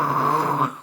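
A short growl rumbles for under a second in a French children's story, steady and close, then cuts off.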